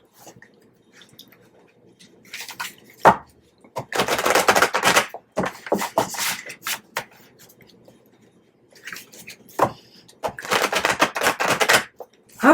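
A deck of oracle cards is riffled and shuffled in several quick bursts of crisp, fluttering card noise. Quiet pauses fall between bursts, and the sound is close by.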